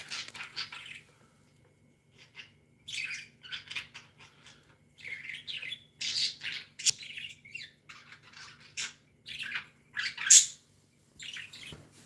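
Several pet birds, three birds that live in a cage together, chirping and squawking in short bursts of bright calls with small pauses, fairly close by, with no talk over them.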